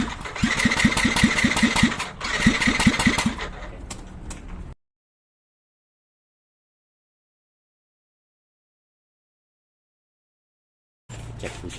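A Yamaha NMAX scooter that stalled after riding through floodwater is cranked, its starter whirring in rapid pulses for about four seconds before cutting to silence, then a brief engine noise returns at the end.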